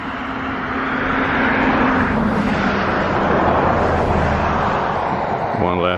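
Road traffic passing on Kauai in the morning, a loud, continuous rumbling roar of vehicles swelling and fading as they pass nearby.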